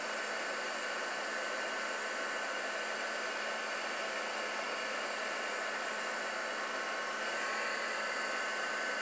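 Heat tool melting glitter embossing powder on a craft card, a steady, even blowing hiss like a hair dryer, moderately loud and unbroken with no voices.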